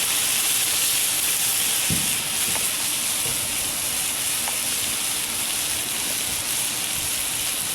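Oil sizzles and hisses steadily in a hot pan while cooking steak, a loud dense frying crackle running throughout with a few faint knocks beneath.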